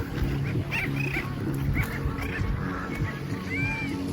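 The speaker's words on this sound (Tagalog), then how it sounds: "Ang daming ibon." Many seabirds call at once in a dense, continuous clamor at a nesting site on Marka Island off Al-Birk, Jizan, with sharper cries rising above the steady noise.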